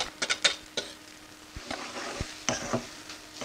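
A spoon scrapes and taps through a cooked onion and garlic mixture in a pan, giving a series of short, uneven stirring strokes over a faint sizzle, close by and without talk.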